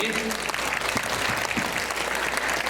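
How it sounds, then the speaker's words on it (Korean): Congregation applauding to welcome a missionary to the pulpit at a church service, dense and sustained clapping from a full room with some voices mixed in. "환영의 박수로 우리 같이"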